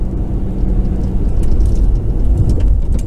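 Loud, steady rumble of a car driving, deep road and engine noise filling the cabin with no talking.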